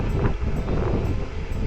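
Wind rushes steadily across the microphone during a bikepacking ride on the Cebu Divide, a constant loud buffeting roar with no voices.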